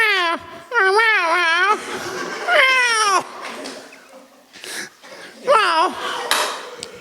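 A voice mimics a tomcat searching for a female, giving several loud, wavering, yowling meows in a row with brief gaps between them, up close.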